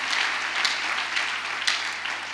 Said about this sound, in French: Il faut acclamer la parole.